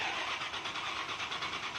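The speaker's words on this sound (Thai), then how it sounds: "เขาเบิ่งการสตาร์ทเครื่องเนาะ" A boat engine starting up on a river ferry crossing, a steady broadband mechanical roar with a rhythmic pulsing, loud and close, with no talk.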